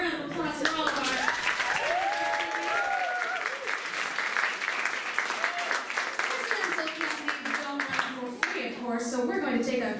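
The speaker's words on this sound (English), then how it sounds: "Can we have a round of applause for all of our..." An audience at a civic candidate event gives a round of applause, dense continuous clapping close by with voices speaking over and between it.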